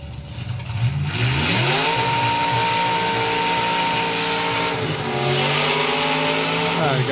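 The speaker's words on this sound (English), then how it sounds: "a little bit on and off the throttle" A drag racing car engine at a drag strip event revs on and off the throttle, loud and close, with pitch climbing, holding, dropping and climbing again in repeated blips over a constant roar.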